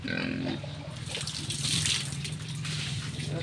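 Water gushes and splashes steadily from a hose or tap while pigs are bathed on a backyard farm, a loud, continuous close spray throughout.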